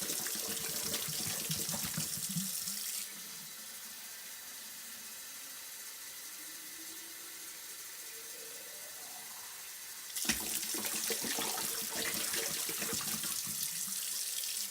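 Cold water runs from a tap into a bottle for an easy-feed pump, a steady close rushing pour that quiets to a softer, rising fill in the middle before the louder flow returns.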